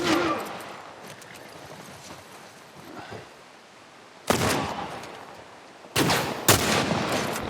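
Gunshots in The Last of Us, with a few sharp, loud reports and a burst of firing that break a quieter stretch of background ambience.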